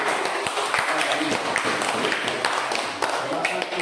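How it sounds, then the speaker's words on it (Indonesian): Students in a classroom clap for the first group after its presentation, a dense, steady patter of many hands mixed with faint chatter throughout. "Kasih tepuk tangan untuk kelompok 1."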